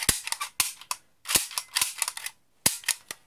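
A toy semi-automatic ping-pong ball pistol from a double pistol set fires sharp, snappy pops, about eight shots in quick irregular bursts, close and distinct with short silences between.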